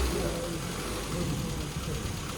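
A car engine under carburettor fuel tuning drones steadily and loudly through a brief rev, close by, with a rough, continuous mechanical roar and no clear speech over it.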